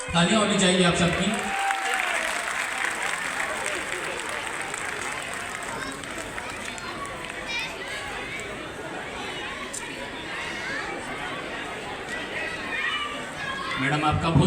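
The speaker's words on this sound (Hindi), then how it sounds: "तालियां होनी चाहिए आप सबकी।" A large crowd at a Diwali sports gala in a Peshawar stadium applauds steadily for over ten seconds, with chatter mixed in and a voice at the start.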